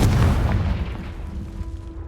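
Confringo blasting spell explosion in the video game Hogwarts Legacy, a single heavy boom already under way that decays into a long rumbling tail, loud and close.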